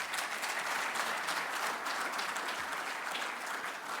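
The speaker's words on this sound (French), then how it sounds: "Je vous remercie de l'applaudir." Audience applause at an awards ceremony for the Galien Africa Prize, a steady wash of clapping from a seated crowd holding even and moderately loud for the whole stretch.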